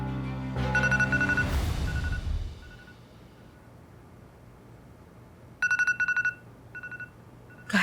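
A landline telephone rings with bursts of electronic trilling tones, one long ring early on and another clear ring pattern later, loud and close, with no talk over it.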